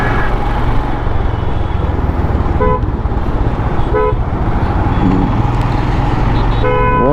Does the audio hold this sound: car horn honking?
yes